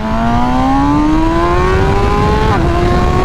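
A 2021 MV Agusta Rush motorcycle with a BT Moto ECU flash tune revs at about half throttle on a dyno, its loud engine note climbing steadily and dipping briefly near the end, with no voices.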